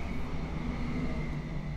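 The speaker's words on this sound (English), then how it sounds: "Hello, train." A train passes outside and comes in through an open window as a steady broad rumble with a low drone, faint and distant, with no voices over it.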